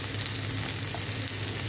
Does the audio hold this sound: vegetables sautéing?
yes